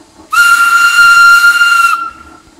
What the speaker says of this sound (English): That whistle! I've heard it before! It's the magical engine!